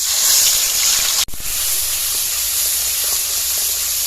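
Onion paste frying in hot mustard oil, a loud continuous sizzling hiss close by with a brief dip partway through.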